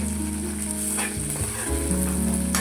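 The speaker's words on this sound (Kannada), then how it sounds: "ಇವಾಗ ಶುಂಠಿ ಬೆಳ್ಳುಳ್ಳಿ ಪೇಸ್ಟ್ನ ಹಾಕ್ಕೊತಾ ಇದ್ದೀನಿ" Onion fries in a pan with ginger garlic paste and green chilli, a loud continuous close sizzle with light stirring throughout the short stretch.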